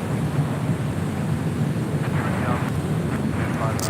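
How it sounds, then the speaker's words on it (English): An Asiana Cargo Boeing 747-400 departing LAX, a steady broad jet roar heard from a distance with wind rumble, constant loudness throughout. "Asiana Cargo Flight 284 heading to SFO in a 747-400."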